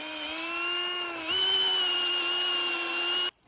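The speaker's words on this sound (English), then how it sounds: "We're going to drill 3/8 hole through the entire beam." A drill boring a 3/8-inch hole through a steel solar panel mount beam, a steady high-pitched whine with strong harmonics that shifts pitch slightly partway through, then cuts off abruptly.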